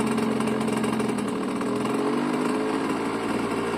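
A Fantic 50cc moped engine running just after starting, a loud, close, buzzy two-stroke drone holding steady with a slight dip in pitch partway through as it settles.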